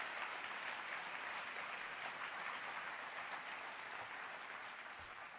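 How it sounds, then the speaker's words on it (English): Audience applause at a welcome event in Kansas City, steady dense clapping from a crowd heard somewhat distantly and fairly quietly, tapering slightly at the end. "another round of applause for them"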